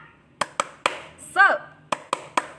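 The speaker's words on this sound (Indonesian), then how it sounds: "Nah, ayo tepuk semangat" A teacher leads the rhythmic 'tepuk semangat' cheer, with sharp, close claps in quick groups of three, broken by a short sung or spoken burst, then three more claps.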